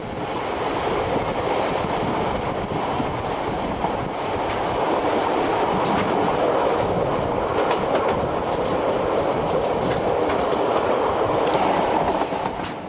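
A passenger train races downhill toward the river port of Greymouth, a steady close rumble of wheels with faint clickety-clack running throughout.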